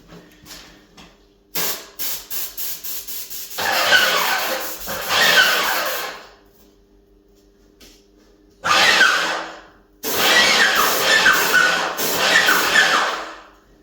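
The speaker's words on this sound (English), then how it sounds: "just spray a little bit into your scuttle" An Erbauer airless paint sprayer hisses in several bursts, some long and steady, others short, with clicking mechanical sounds between sprays.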